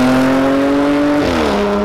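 A 2014 Audi S4 fitted with an Armytrix exhaust holds a steady, loud engine note, then the pitch steps down partway through as the revs shift, close and alone with no talk.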